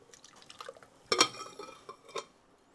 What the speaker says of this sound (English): I'm going to pour it in my antique blender.